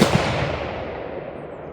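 Single rifle shot from a Remington 788 chambered in 6mm at an outdoor range, a sharp loud report at the very start followed by a long decaying rumble of echo with no talking.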